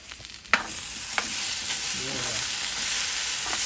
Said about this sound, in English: you want to stir this every couple minutes